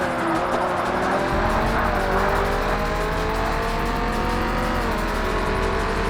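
A Corvette's engine drones loudly and continuously in the Forza Motorsport racing game, a sustained high-revving tone holding steady for several seconds with no talk.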